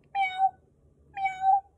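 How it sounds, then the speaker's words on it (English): A cat gives two clear, close meows about a second apart, each a rising then falling cry, with quiet in between. "A cat!"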